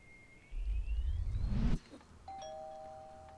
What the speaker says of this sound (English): At least we rang the doorbell first.